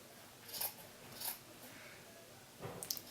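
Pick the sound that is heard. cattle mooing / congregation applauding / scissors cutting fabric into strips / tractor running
scissors cutting fabric into strips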